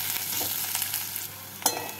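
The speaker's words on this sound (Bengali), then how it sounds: "এবার এর মধ্যে গ্রেট করা রসুনগুলোকে দিয়ে নাড়াচাড়া করে নেব।" Grated garlic sizzles with lightly browned onions in a pan, a soft steady fry with a few spatula scrapes and one sharper stroke near the end, close and without voices.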